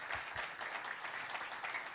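A church congregation applauds and cheers for God during a sermon service, a steady wash of clapping that is faint and distant, running continuously without voices breaking through.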